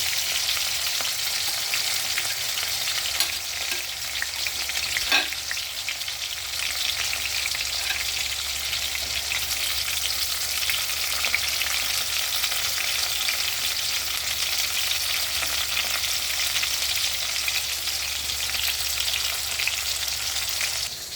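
Tomatoes sauté in a frying pan for ginisang mustasa, a Filipino mustard-greens dish, giving a continuous bright sizzle and crackle that stays steady and close, with no talking.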